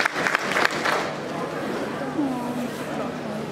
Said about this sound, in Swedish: Ja, de får en applåd.